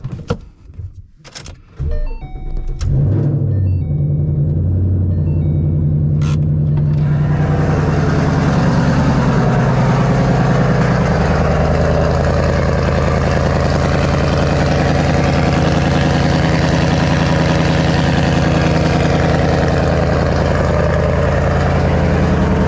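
A 2014 Ford Mustang GT cranks and fires on a cold start, with a few clicks and clunks before the V8 catches, then settles into a loud, steady, rumbling high idle that continues for about fifteen seconds.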